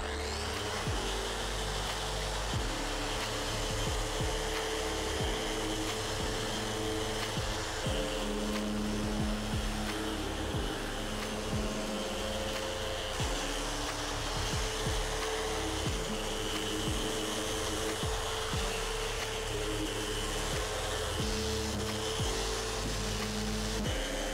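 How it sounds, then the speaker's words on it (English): Wooden boards being sanded smooth with 120 grit sandpaper, edges rounded over, likely by a power sander: a constant loud whirring drone with a steady rough scratching texture, unbroken for the whole stretch. "we can sand smooth the sides and just round over these edges. I'm going to be using 120 grit sandpaper for this"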